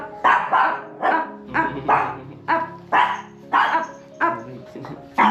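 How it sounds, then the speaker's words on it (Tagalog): Angry dog barking in a house under construction, a steady series of about ten loud, close barks at an even rhythm with faint growly undertones. "Ala, nagagalit si Sushi"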